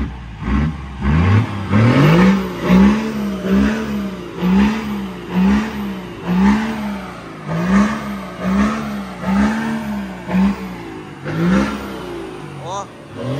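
A Chevrolet Grand Blazer with an MWM six-cylinder diesel and straight-pipe exhaust revs loudly in repeated surging pulls, deep and rumbling and close by, with voices talking over it.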